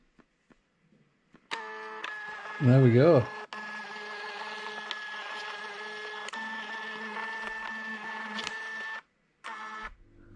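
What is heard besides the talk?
Phomemo Bluetooth label printer printing labels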